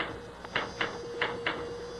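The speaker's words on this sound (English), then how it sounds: "Stop that typing." A typewriter clacks in several separated, crisp keystrokes at an uneven pace, close and fairly loud over a steady background hum in an office scene from a radio drama.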